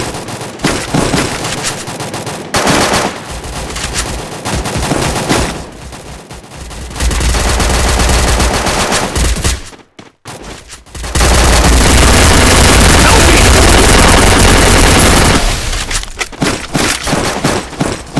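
Rapid bursts of gunfire crackle loudly and almost continuously, with a brief silent gap near the middle before a dense, sustained volley resumes.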